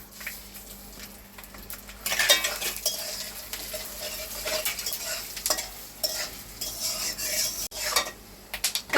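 Peanuts, mung dal and cumin frying and being stirred in a pan, with steady sizzling and repeated scraping and clinking of a utensil against the metal, close and continuous.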